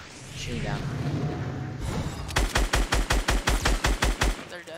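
Video-game automatic gunfire shooting down enemies: after a stretch of noisy game sound with talking, a loud, steady rapid burst of about a dozen evenly spaced heavy shots, close and punchy.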